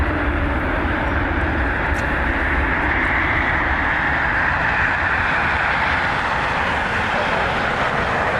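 Southwest Boeing 737-800 airliner taxiing at Cleveland Hopkins airport after arriving from Denver, a steady, loud jet engine roar with a broad hiss that holds constant throughout, nearby and unbroken.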